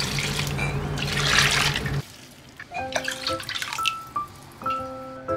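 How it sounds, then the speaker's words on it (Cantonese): Water runs steadily into an electric soup pot for about two seconds, a fairly loud rushing pour, then stops, followed by a few light clinks and knocks. "然後就加入清水"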